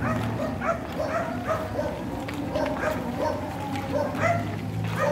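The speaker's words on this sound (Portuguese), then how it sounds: "Cães por todo lado." Dogs bark and yip repeatedly along a street near a church with a statue at the end, a busy chorus of overlapping barks close by, with voices and general street noise underneath.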